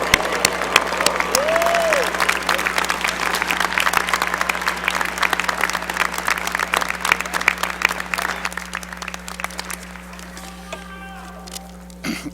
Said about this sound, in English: please stand up and cheer